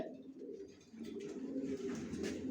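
Racer pigeons, young birds, coo in a low, steady murmur that runs throughout, moderately close, with faint rustling above and no voices.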